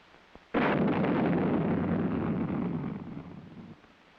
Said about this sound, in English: It is fired electrically with thermal batteries or vehicular power source from a remote control firing panel.